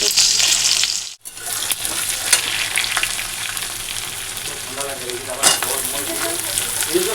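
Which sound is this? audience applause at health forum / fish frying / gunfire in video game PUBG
fish frying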